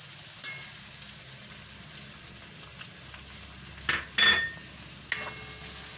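Green onion and peas frying in oil make a soft, steady sizzle with a few faint stirring scrapes and clicks, fairly quiet and close.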